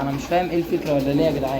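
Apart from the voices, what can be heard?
pigeons cooing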